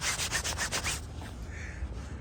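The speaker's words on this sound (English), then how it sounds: "Sorry for that rustling or rubbing sound. It's this quite thick parka jacket that I have on." Rhythmic rubbing of a thick parka jacket, a quick series of close scratchy strokes, then quieter shuffling as the movement stops.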